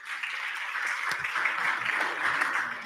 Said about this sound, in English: So let's get an applause for him.